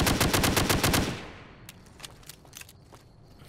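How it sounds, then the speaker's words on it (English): Rapid machine-gun bursts from a Fallout New Vegas game fire loudly for about a second, then scattered single shots and clatter trail off faintly. "Open fire, Shannon."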